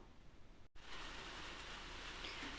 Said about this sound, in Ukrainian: Все, знов спустився дощ.